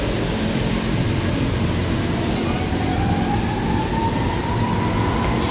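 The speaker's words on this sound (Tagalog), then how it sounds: "Oh, may train." Train passing nearby on an elevated rail line in Metro Manila, a loud continuous rumble of wheels with a faint rising squeal, steady throughout.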